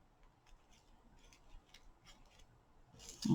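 Scissors trimming ribbon, a few faint, quiet snips and small clicks spread across the moment, ending with a slightly louder rustle.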